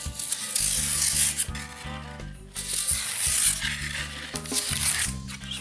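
A sharp blade cuts back plaster along a ceiling crack, making rhythmic scraping and rasping strokes close by in three bursts with brief pauses between them.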